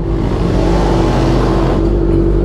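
Loud, continuous engine drone from a Kawasaki ZX-4R motorcycle, riding close and steady with a slight rise in pitch, sustained throughout without any talk.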